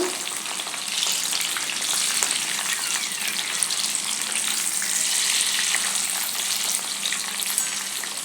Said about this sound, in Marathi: बारीक गॅसवरती असं थोडा वेळ व्यवस्थित तळून घ्यायचं आहे